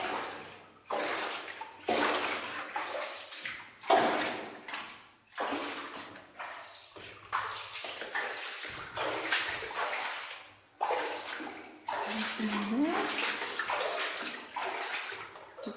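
Water trickles and splashes over a small fall inside a shallow, silty lead mine adit in Mid Wales, coming in uneven bursts and surges that rise and fade, close by and fairly quiet.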